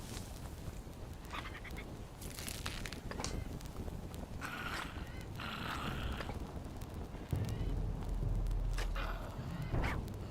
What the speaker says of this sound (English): I'm gonna have to kill that bird before I can harvest any of this bamboo